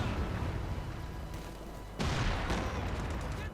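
Land mattress rocket artillery in the Company of Heroes 2 video game fires as a dense, continuous roar of launches and blasts that swells louder midway, with no pauses.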